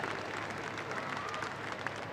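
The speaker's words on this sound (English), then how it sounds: "Can you please give our ringmaster and our stewards, officials, councillors and all our volunteers a big round of applause" Outdoor crowd at a grand parade arena clapping for the ringmaster, stewards and volunteers, a steady patter of scattered applause that stays moderately faint and even throughout.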